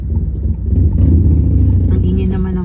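A motorcycle engine drones and rises in pitch nearby, with people talking over the steady rumble.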